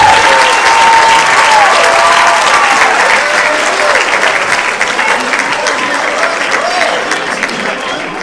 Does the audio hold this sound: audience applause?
yes